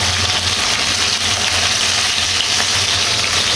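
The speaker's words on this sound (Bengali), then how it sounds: "এইভাবে আমি মাছ ভেজে নিচ্ছি" Large, fresh hilsa fish over a kilo frying in hot oil until crisp, a steady dense sizzle with a low rhythmic hum underneath, loud and close throughout with no talking.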